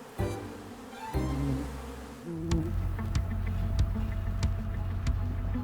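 Bees in an old shed buzzing close by in a wavering drone that shifts in pitch, later joined by scattered sharp ticks and knocks.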